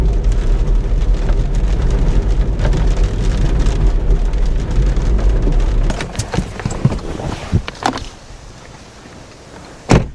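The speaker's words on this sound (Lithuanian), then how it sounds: "Kaip lyja." Heavy rain pours down in a dense, even hiss that thins out and gives way to scattered knocks and a sharp clunk near the end.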